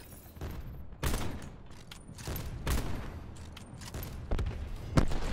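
Sniper rifle shots ring out in a video game, several sharp loud cracks spaced about a second apart, each with a short echoing tail over quieter game ambience.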